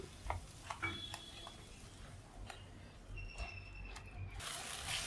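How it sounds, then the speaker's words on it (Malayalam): A spoon scrapes and stirs through thick cauliflower-potato masala curry in a pan, with repeated clicks against the metal over a soft sizzle, close and quiet. "അതും കൂടെ ചേർത്ത് നന്നായിട്ട് ഇളക്കാം"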